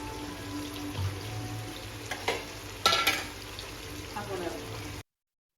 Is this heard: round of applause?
no